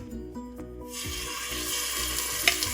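Oxtail seasoned with salt pan-frying in hot oil, a steady broadband sizzle that rises after a quieter start and runs continuously with a few small pops near the end, fairly close and loud.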